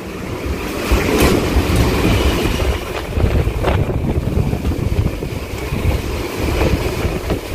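A local train on the Sealdah to Princep Ghat line running at speed, a loud continuous rumble and rattle of wheels on track from inside the carriage, with no talk.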